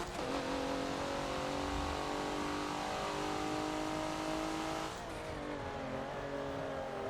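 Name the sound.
race car engine at Hockenheimring in the video game Forza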